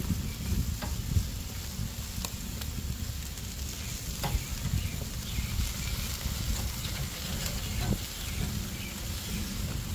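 Chicken sizzles steadily on a Kamado Joe grill at a family barbecue, a constant close frying hiss with occasional small pops and clicks of tools, and no talking.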